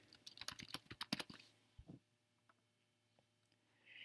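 A computer keyboard is typed on in a quick burst of close, crisp keystrokes, then a few sparse clicks amid near silence.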